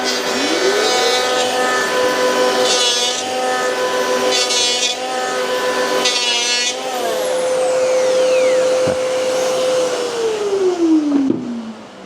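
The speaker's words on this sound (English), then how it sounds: "hooked up to the vacuum, so that saves a lot of dust" A vacuum extractor drones loudly and steadily alongside a router shaping black wattle wood, with tonal whine shifting in pitch as the tool works and spins down near the end.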